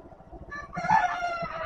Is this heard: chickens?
yes